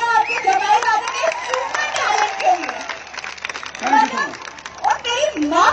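Audience applause at a Diwali show in Triolet Bazar, a crowd clapping steadily under a loud announcer's voice and children's chatter, with the clapping fairly close and continuous.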